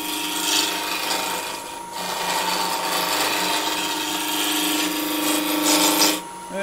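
Skew chisel cutting wood on a lathe with the thumb along the flute, a steady close rasping hiss of shaving that runs almost unbroken, briefly easing once before cutting off near the end.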